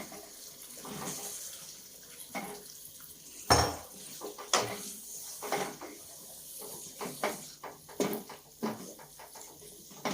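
Chicken goes into a karahi pot of hot ghee for a desi chicken karahi, with scattered metallic clinks and scrapes of a utensil against the pot over a soft background sizzle, nearby and moderately loud.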